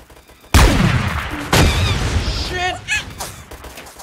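Gunfire in the Apewar video game comes as two loud, sharp booming shots about a second apart, each followed by a rolling tail, with faint chirping game effects afterward.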